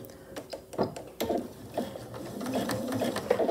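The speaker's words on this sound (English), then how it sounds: "I'll sew a seam right across here with my regular presser foot" A sewing machine with a regular presser foot runs a short seam across a fabric skillet-handle potholder, whirring in quick close bursts that blend into a steadier stitching run.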